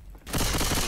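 Dense gunfire in Left 4 Dead erupts after a quiet moment, a loud sustained barrage of rapid shots that fills the rest of the moment.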